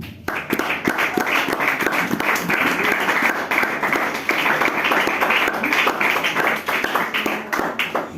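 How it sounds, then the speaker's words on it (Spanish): Church congregation clapping during a Spanish-language worship service, steady dense handclaps sustained throughout at a moderately loud level with faint murmuring underneath. "Dele palmas a Dios, hermano."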